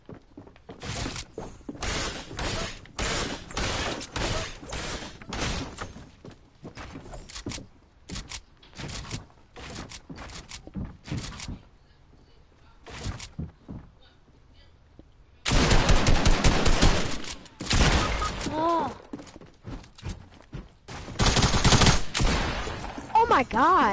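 Video game gunfire comes in rapid automatic bursts and dense volleys, loud and close, with a few short pauses and a heavier sustained barrage in the second half.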